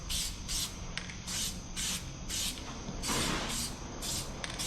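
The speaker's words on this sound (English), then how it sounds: "In like the center caps, I'll give you the honors to spray the first one." Aerosol spray paint hissing onto car wheel center caps for a 2024 Mustang GT, delivered in a series of short bursts with brief pauses between them and one longer, stronger burst near the middle, close and loud.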